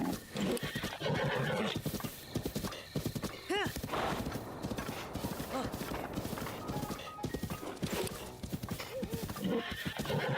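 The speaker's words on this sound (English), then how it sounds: "There's a whole bunch of horses here." Several horses in Breath of the Wild neigh and whinny while hooves clip-clop steadily, all layered over game music with a busy, continuous texture.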